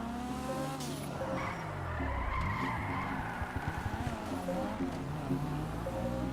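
A car in GTA 5 slides sideways under the handbrake around tight corners of a short course, tires squealing and skidding over a loud, steady engine roar that rises and falls through the drift.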